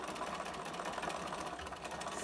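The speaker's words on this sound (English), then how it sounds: "turn my corner, needle down, and just stitch" A sewing machine stitches a fabric face mask with a filter pocket, a close, steady buzzing run of the needle that holds an even pace throughout without pause.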